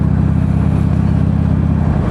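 A small, cherished motorcycle with running problems idles steadily, a loud, continuous low engine drone with a fast, even pulse and no other sound.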